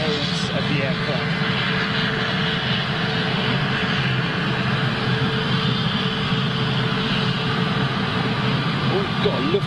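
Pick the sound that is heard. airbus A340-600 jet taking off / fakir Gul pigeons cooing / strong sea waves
airbus A340-600 jet taking off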